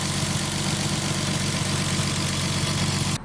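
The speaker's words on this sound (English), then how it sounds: "This thing is running so smooth now that I have an exhaust on there and you can finally hear it." A rebuilt forged turbo M50 engine in a BMW E30 idles steadily through its exhaust with a deep, rumbling note, close by, for a few seconds before stopping.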